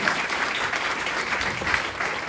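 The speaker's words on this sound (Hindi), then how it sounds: "भाई एक बार जोरदार तालियां मेरे दोस्त के लिए।" A burst of enthusiastic clapping from an audience, dense and steady for a couple of seconds.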